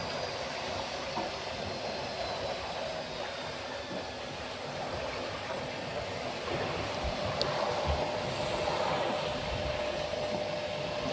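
Washing machine running aboard a sailboat on the open Pacific, a steady low mechanical hum blended with wash of sea and wind, constant and moderately faint throughout.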